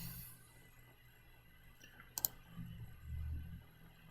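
A computer mouse clicks during CAD drafting of wall framing, with one sharp, quiet click standing out against faint background hum in an otherwise still room.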